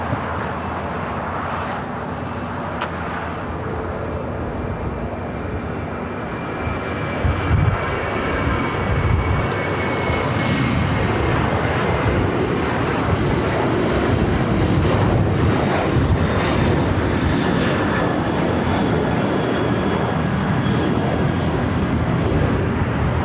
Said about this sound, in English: All right, our first takeoff is the flight heading into Seattle, Washington.